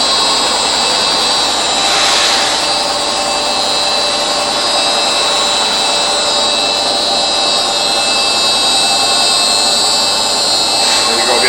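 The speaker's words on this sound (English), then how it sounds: "diamond grip pad that we're going across the surface with right now. This is the Genie Presto." Genie Presto burnisher running a diamond grip pad across a concrete floor, a loud steady grinding whir that stays constant and close throughout.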